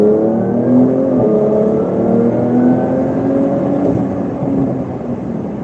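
Porsche 992 Turbo S accelerating hard at night across a bridge, a sustained loud engine roar heard from inside the car with rising tones and steady road noise, short of full throttle.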